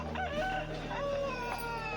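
An Aseel rooster crows nearby at an outdoor Sunday market, over steady background hum and other fowl sounds, one drawn-out call filling the short moment.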